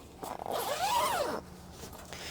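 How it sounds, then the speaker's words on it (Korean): A zipper being drawn open along the middle of an interior curtain in a tent trailer, one continuous rising-then-falling zip lasting about a second, close and clear with no talk. "가운데 지퍼를 열어주시고"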